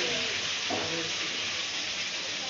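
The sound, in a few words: food frying in a pan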